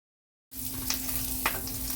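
Sausage sizzles in a hot pan with a steady, close crackling hiss that starts abruptly after a moment of silence, with a couple of brief scrapes over the frying.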